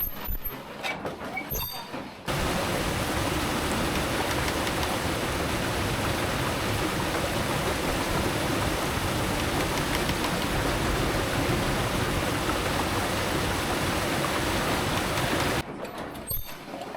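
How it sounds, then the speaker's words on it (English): Water gushes through the opened sluice gates of a historic granite-cutting mill as a loud, constant broadband rush that starts abruptly, holds steady for about thirteen seconds, then cuts off, with quieter surroundings before and after. "the sluice gates can be opened roughly once every hour to showcase how the whole mechanism was once being used to cut thick chunks of granite"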